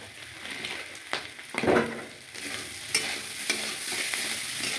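Salted, turmeric-seasoned potatoes for aloo chochchori stir-fry in a little oil, with a moderate sizzle broken by repeated spoon scrapes and knocks against the pan.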